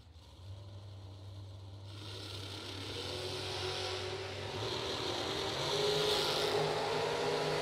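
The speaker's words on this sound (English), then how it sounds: "About 3 seconds later, Daryl Pittman's going to take off in his Mullis car from Axon," A Mullis drag racing car from Axon, Georgia launching down the strip, a distant engine roar that builds steadily and grows louder over several seconds under a low hum, with no talk.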